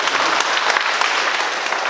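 A church congregation in Jangheung, Korea claps together in a brisk burst of applause, a bright dense patter of many hands that stays loud and even for the whole stretch.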